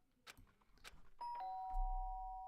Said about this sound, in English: Oh, someone's spamming the doorbell.